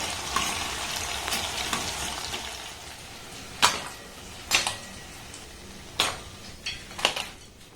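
Coconut pitha cakes frying in hot oil in a home kitchen, a soft steady sizzle with a few sharp clinks of a utensil against the pan standing out.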